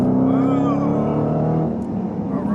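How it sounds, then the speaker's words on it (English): Supercharger whine rises over the deep rumble of a hard-accelerating performance car, either a 2018 Dodge Challenger SRT Hellcat or a 2019 Corvette Z06, loud and continuous with the engine note climbing steadily. "I love that winding of that supercharger."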